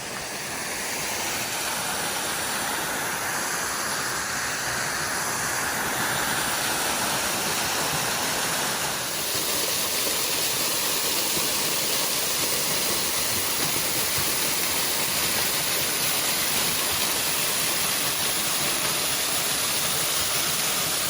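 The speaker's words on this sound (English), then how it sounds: "Huge log jam, and then it goes over some more cascades right there." Kermandie Falls in southern Tasmania spilling over cascades past a large log jam, a dense continuous roar of rushing water that stays loud and steady throughout with no talking.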